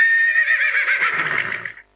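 A horse whinnies in one long, loud, wavering neigh that trails off and ends abruptly, heard alone with no talk.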